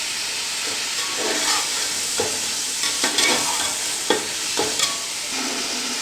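Chicken pulao masala being stirred and fried in a pan after vinegar, soy sauce, chilli sauce, tamarind and crushed red chilli go in: a steady close sizzle with repeated scraping strokes of a spoon, no voices.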